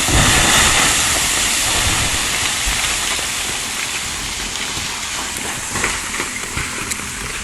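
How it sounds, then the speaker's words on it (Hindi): Steady rain falls over Maldevta near Dehradun, a dense, continuous hiss of downpour that stays loud and even throughout, with no voices. "बारिश कैसे माल देवता के इस इलाके में ऐसा लग रहा है जैसे घर कर गई है।"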